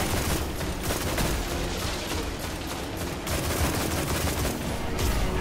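Continuous video game gunfire, rapid overlapping shots and bursts forming a dense, loud barrage that runs the whole stretch with no voices over it.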